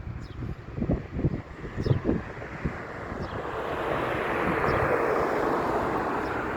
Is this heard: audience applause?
no